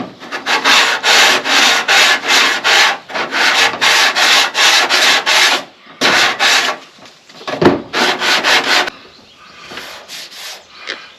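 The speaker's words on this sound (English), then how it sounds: "Just when you're block sanding it, you end up taking off sometimes more than you intended." A sanding block scrubs Bondo body filler on a 2002 Ford F350 in loud, close, rhythmic back-and-forth strokes, broken by short pauses and a brief knock, then fading to lighter rubbing.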